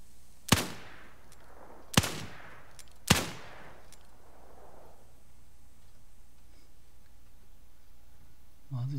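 Three loud, sharp gunshots about a second apart from the Wild West game New Frontier, each with a short decaying echo, followed by quiet ambience and a brief low rumble at the end.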